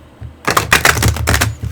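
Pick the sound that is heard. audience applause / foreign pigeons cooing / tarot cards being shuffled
tarot cards being shuffled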